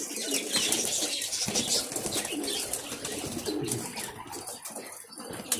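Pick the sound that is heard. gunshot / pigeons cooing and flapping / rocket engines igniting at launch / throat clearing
pigeons cooing and flapping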